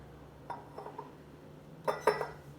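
A small metal sieve is set on top of a glass jar, making a few light clinks and taps, with a brighter pair of metallic clinks near the end in an otherwise quiet kitchen.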